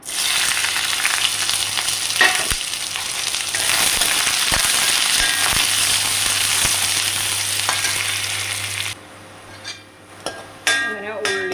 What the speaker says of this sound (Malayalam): നമുക്ക് ചീനച്ചട്ടി ചൂടായി അതിൽ നമ്മൾ വെളിച്ചെണ്ണയാണ് വെച്ചിരിക്കുന്നത് അതിലേക്ക് നമ്മൾ ചുവന്നുള്ളി വെളുത്തുള്ളി കറിവേപ്പില ഇട്ട് കൊടുക്കുക